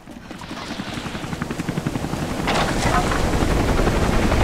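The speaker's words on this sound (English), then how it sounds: "Oh, the helicopter is like uh, escaping." Helicopter in a video game, its rotor chop pulsing steadily and growing louder and denser toward the end, with a windy rushing wash underneath and no talk.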